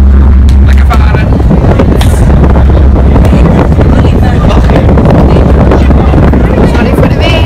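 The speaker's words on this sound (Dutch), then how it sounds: "Sorry voor de wind." Strong wind buffets the microphone continuously aboard a ferry boat crossing open water, a loud low roar with a steady engine rumble underneath and brief voices mixed in.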